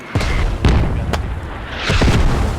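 A frag grenade bursts in a tactical military shooter match with a deep boom, joined by a few distant blasts or gunshots echoing across open ground.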